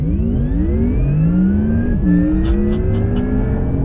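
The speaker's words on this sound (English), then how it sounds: "Because Taycan has a 2-speed transmission that activates in Sport Plus mode, there's a shift point during launch." A Porsche Taycan Turbo's electric drive whines upward through a hard Sport Plus launch, loud and close, until its 2-speed transmission shifts midway with a brief dip in pitch before the whine climbs again over steady road roar.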